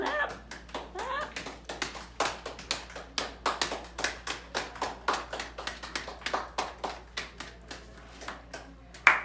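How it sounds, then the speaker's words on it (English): A small group at a tribute claps in a slow, fairly steady rhythm, each sharp clap distinct and close, with a faint voice briefly under the start. "Clap, clap, clap, clap, clap."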